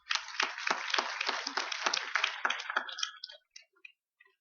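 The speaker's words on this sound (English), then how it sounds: "So a huge round of applause for these people." Audience clapping for a panel on stage, a dense burst of many hands that holds steady for about three seconds and then thins out to a few scattered claps before stopping.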